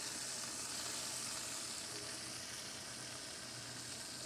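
Food frying in grease in a cast iron pan gives a steady, dense sizzle that holds at an even level throughout, close by and with no voices over it.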